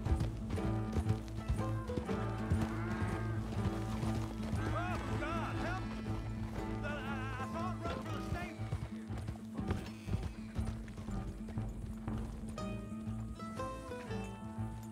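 Rhythmic hoofbeats of a galloping horse in Red Dead Redemption 2 run under background music, with someone talking over them throughout.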